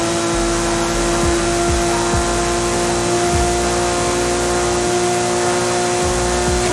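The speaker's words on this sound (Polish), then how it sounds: "Ale brzmi fajnie z tym zeswapowanym silnikiem." Porsche 911 Sport Classic with a swapped engine accelerating through the gears, steady loud engine drone heard from inside the car with repeated upshifts as revs climb and drop.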